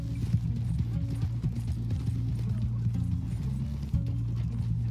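Horse hooves galloping in Red Dead Online, a fast, even clip-clop rhythm that stays loud and near the whole time, set over a low droning game backdrop, with no one talking.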